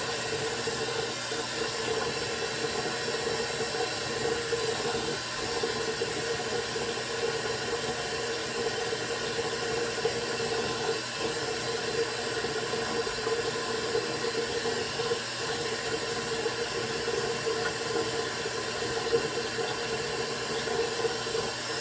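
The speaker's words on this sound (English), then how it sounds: "I'm gonna use some water from the faucet." Water runs steadily from a faucet, a constant hissing stream with no voices.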